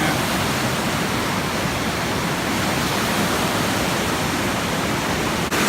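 Loud, steady roar of a waterfall heard from very close beside the falling water among slippery rocks, a dense unbroken rush filling the whole stretch with no voices.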